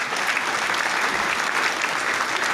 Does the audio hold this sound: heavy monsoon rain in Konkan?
no